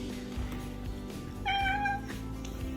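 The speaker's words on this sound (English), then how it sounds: "he let out a small meow that stopped me in my tracks" A shelter cat named Atlas lets out a single short, soft meow over steady room noise, close by and alone with no talking.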